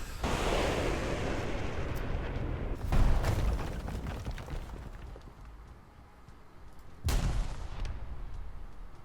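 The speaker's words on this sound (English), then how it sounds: "I heard the missile." Missile strikes in War Thunder during an aerial battle: broadband rushing roar with two heavy impact bursts about four seconds apart, loud and close, over steady engine and wind noise.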